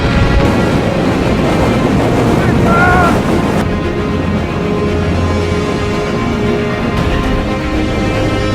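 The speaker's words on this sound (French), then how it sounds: "il y a du vent de ouf" Strong wind roars across the microphone along with a broad rushing noise while walking outdoors in Iceland, loud and continuous throughout, with a voice briefly audible.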